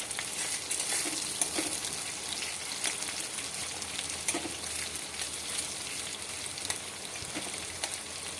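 Onion frying in mustard oil with two bay leaves in a kadai, a steady dense sizzle with occasional crackles and stirring scrapes throughout, close and continuous with no voices.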